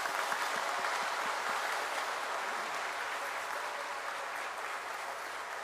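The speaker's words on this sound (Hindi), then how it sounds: "आप लोग एक बार सबके सम्मान में इनका जोरदार तालियों से स्वागत करें।" Audience applause welcoming national guests at an Adivasi gathering: steady, fairly faint crowd clapping, dense and continuous for several seconds and slowly fading, with no voices over it.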